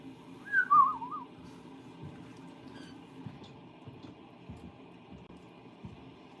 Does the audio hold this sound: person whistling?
yes